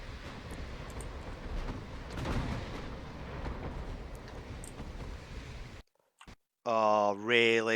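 Naval gunfire in the Ultimate Admirals Dreadnoughts warship game, a dense run of low booms and rumbling blasts at moderate loudness, followed by a short dropout and then a sharp, bright, tonal sound effect at the end.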